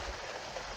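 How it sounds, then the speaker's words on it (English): Rain falls outdoors as a steady, even hiss of drops on surfaces, moderately loud and unbroken for under a second with no voices. "Hopefully you can hear me over the rain."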